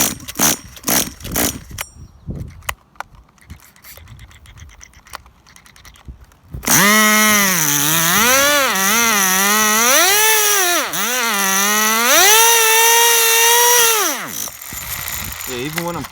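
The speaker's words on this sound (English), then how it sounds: "even when I'm closing the carb, it's still continuing to rev up" A Tamiya TGS-R nitro RC car engine with a faulty carburettor, first sputtering in short bursts, then screaming loud and close at high revs, the pitch surging and wavering and refusing to drop before cutting out abruptly.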